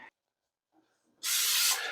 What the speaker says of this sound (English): Put a little extra cooking spray on that egg ring, just because it might stick to it.